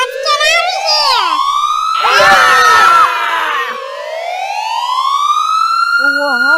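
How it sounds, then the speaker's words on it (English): A loud wailing siren sweeps up and down in long rising and falling tones, briefly joined by a burst of overlapping shrill tones and crowd noise in the middle. "Oh, what the? That siren's louder!"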